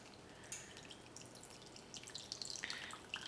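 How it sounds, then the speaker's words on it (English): Fat being poured and drained from a cooking pan, heard as a steady close trickle with spattering drips that grow busier toward the end, with no talking. "But first I'm gonna drain off some of this fat just to give myself an easier time."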